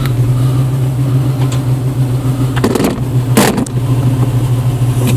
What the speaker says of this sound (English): Let's see if I can get enough traction to get up this in two-wheel drive.